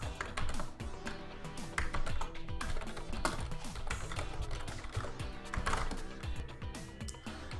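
Close keyboard typing while logging in to Apple School Manager, a quick run of light clicking keystrokes with short pauses, steady throughout and no talk.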